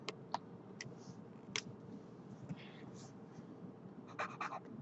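A few light, quick taps on calculator buttons land in short clusters, soft and close against a faint background hum, with no one talking.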